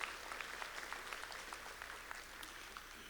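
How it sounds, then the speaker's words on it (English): A commencement ceremony audience gives steady, distant applause that stays even throughout, like many hands clapping across a large hall. "That's right, that deserves a round of applause."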